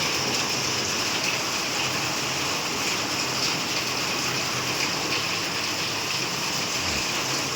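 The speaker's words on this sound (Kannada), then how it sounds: "12:30ಗೆ ಈ ಥರ ಮಳೆ ಬರ್ತಿದೆ ಜೋರಾಗಿ" Heavy rain falls at night around half past midnight, a loud, constant wash of drops drumming on surfaces with no letup, close and steady throughout.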